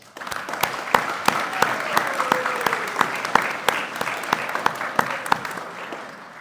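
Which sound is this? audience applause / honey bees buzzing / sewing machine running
audience applause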